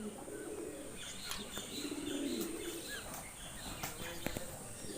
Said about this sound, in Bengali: দামি দামি কবুতর ময়ূর আছে।